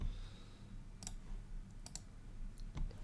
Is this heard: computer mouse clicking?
yes